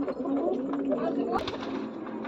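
Fancy pigeons such as Kaldum and Capuchin birds in a sale loft give soft, steady cooing throughout, mixed with a busy background hum and a brief sharper call near the middle.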